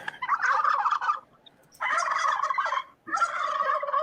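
Turkeys gobble in three loud, close bursts of rapid warbling calls separated by short pauses, with no talk over them.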